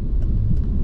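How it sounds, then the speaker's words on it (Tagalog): Steady low rumble of car traffic on a busy road in the morning, engines droning close by with faint brief hiss from passing vehicles. "Umaga ito mga kalampurnas, busy ang kalsada, walang bakante."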